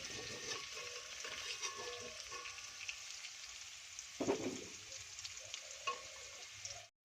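Potato pieces frying in oil until lightly browned for an egg and potato curry, heard as a soft, steady sizzle at moderate distance, with a brief stirring clatter midway and no voices.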